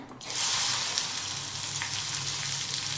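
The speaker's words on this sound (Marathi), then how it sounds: "आता भेंडी टाकूया भाजायला." Okra hits hot oil for a village-style Marathi bhendi bharit, bursting into a loud, steady, close sizzle that holds evenly without pause and with no voices.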